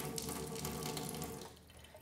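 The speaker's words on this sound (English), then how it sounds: "So I just turn on the faucet here, and it goes through the filter" A kitchen faucet runs water through a Kangen water ionizer filter with electrolysis plates, a steady, close rushing stream that thins out slightly near the end, with no voices.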